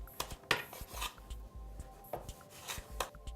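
A knife cuts through rolled-out pasta dough, about an inch thick, on a board, producing a quiet series of separate taps and short scrapes at an irregular pace, close and faint with no talk.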